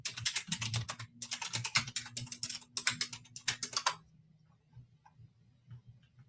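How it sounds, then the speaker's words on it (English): Rapid clicking keystrokes on a computer keyboard, close and busy in uneven bursts for about four seconds, then falling quiet. "So I am typing in the office address"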